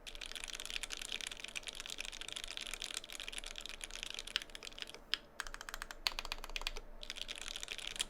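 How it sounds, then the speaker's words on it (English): Keys clatter in a quick, dense stream of clicks on a Keycult No. 1/65 keyboard fitted with lubed Gateron Black Ink switches, with brief pauses near the end. "Man, I feel like I haven't typed on this board for such a long time."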